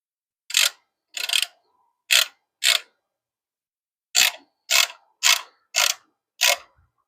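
Bolts on a GM supercharger pulley of a supercharged Honda Prelude are tightened with a ratchet, nine short, crisp clicking bursts close by, grouped with a pause in the middle and no talking.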